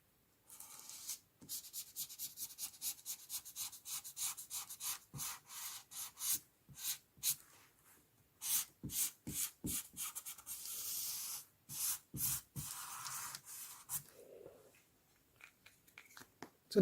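A pencil or marker scraping across paper in freehand strokes while drafting a garment pattern, rhythmic close rubbing scratches in quick bursts with short pauses, no talk.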